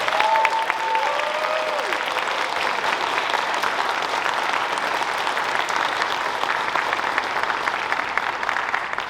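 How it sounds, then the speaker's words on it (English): Steady, dense applause from a convention audience after a Godzilla panel at an anime event, a continuous wash of many hands clapping at moderate loudness throughout, with a few brief voices near the start. "Let's give a round of applause"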